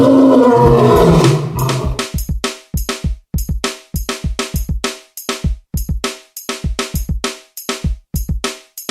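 A lion roar sound effect: one long, loud roar opens, then a run of short, rhythmic grunting roars repeats close up, each dropping away in a sharp, pulsing pattern.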